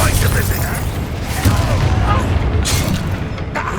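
Confringo spell blasts erupt in Hogwarts Legacy combat, repeated deep booms and crackling bursts layered over a dense, continuous battle din.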